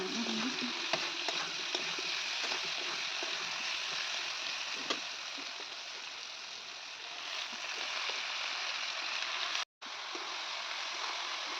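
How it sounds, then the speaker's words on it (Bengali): Poppy seed paste with fried potato and snake gourd sizzles steadily in a hot pan while being stirred, a continuous close frying hiss with small scraping ticks and one brief dropout near the end. "আর এটাকে খুব ভালোভাবে নেড়ে দিচ্ছি"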